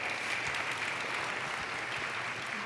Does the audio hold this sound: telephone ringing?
no